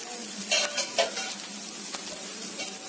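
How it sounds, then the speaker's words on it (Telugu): Chopped onions turning brown as they fry in a pan, with green chillies about to join them, giving a steady soft sizzle broken by a few louder stirring scrapes near the mic. "ఇవన్నీ బ్రౌన్లోకి వచ్చేస్తున్నాయి ఉల్లిపాయలు. ఈ బ్రౌన్లోకి వచ్చినప్పుడు మనం దీంట్లో పచ్చిమిరపకాయలు వేసుకుందాం"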